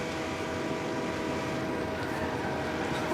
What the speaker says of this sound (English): That freight train is loud as